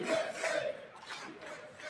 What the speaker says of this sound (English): You got that hockey crowd in there.